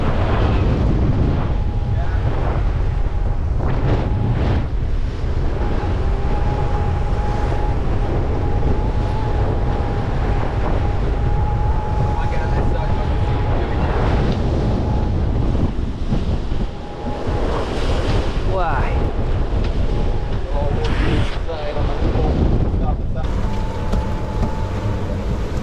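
A sailboat beats to windward in a near gale, with wind roaring across the microphone and waves crashing and washing against the hull in loud, constant, blustery noise.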